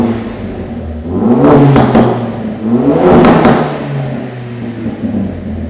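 A car engine fitted with a homemade, zero-cost exhaust system revs twice in quick succession, each blip rising and falling with a loud, close, raspy roar over a steady idle rumble.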